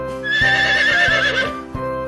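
A single horse whinnies, a loud, wavering neigh lasting over a second, set against a rhythmic musical accompaniment.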